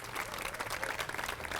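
At the 2016 Farm to Street Dinner in Iowa City, a crowd gives a faint, distant round of applause: a steady wash of clapping with no voices on top.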